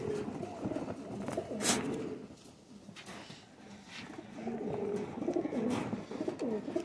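Pigeons coo softly and repeatedly nearby, low throaty burbling calls in a quiet setting, with a few brief higher chirps.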